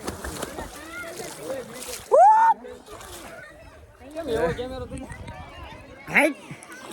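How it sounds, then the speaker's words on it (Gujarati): Water splashes and sloshes a few times in short bursts, mixed with people talking and calling out nearby. "આ જોઈ લો પાણી ઉડાડી જોઉં તમે"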